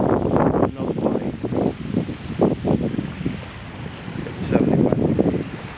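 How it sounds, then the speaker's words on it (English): Steady outdoor wind gusting across the microphone on a warm 75-degree day near water, with boat and wave-like rumble, rising and falling in loud broadband surges throughout with no one speaking. "Nice wind."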